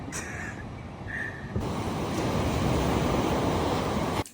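At a fitness retreat in Bali, a crow-like bird gives two short, clear caws close by, then a loud, broad wind-like rush fills the rest of the clip.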